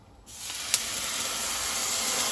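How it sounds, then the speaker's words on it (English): An oiled skate wing hits a hot pan and a loud, steady sizzle flares up after a brief quiet start, a close, continuous hiss that holds to the end. "See that lovely sizzle?"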